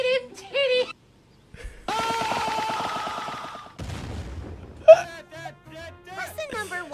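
Cartoon gunfire in an animated Mario comedy, a rapid burst of shots coming in among excited character voices, squeals and music.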